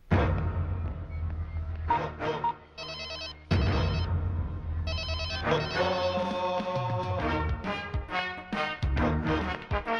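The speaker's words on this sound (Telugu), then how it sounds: "phone ఎత్తట్లేదు sir" A telephone rings unanswered, loud repeated electronic ringtone bursts in a steady pattern with brief gaps, mixed with background music and no voices.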